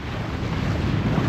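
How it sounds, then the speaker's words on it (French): Strong headwind rushes over a sailboat motoring along the Gaspé coast near Percé, a steady dense roar of wind buffeting the microphone with water and engine rumble beneath, continuous and loud with no voices. "Donc oui, on a toujours le moteur allumé. Et là tu vois, on a le vent de face."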